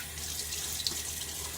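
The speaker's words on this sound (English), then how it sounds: "A little water." A bathroom tap runs steadily during a wet shave, a continuous close hiss of flowing water with no voices.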